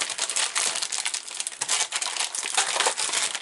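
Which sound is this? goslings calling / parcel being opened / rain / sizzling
parcel being opened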